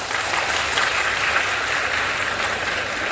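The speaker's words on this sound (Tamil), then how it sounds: "ஏதோ அந்த பிஎஸ்சி மாணவர்கள் மட்டும்தானே கைதட்டுறீங்க" Audience clapping at a Tamil debate on corruption and bribery, a short, even burst of dense applause throughout with no talking.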